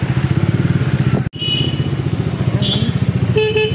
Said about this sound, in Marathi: आणि आज संडे असं ट्रॅफिक बघा केवढं लागलं आहे.